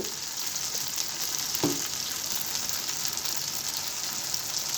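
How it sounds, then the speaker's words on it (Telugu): Tomato puree frying in a pan for a prawn gravy, giving a steady, fairly quiet hiss of sizzling with a brief scrape of stirring partway through, no voices. "టమాటో ప్యూరీని పచ్చివాసన పోయే వరకు వేయించుకున్నాం"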